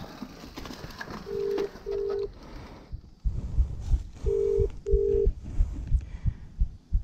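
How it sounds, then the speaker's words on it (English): A telephone rings in paired tonal bursts, two double rings separated by a pause, loud and close over rumbling background noise. "Somebody's calling, can answer the phone."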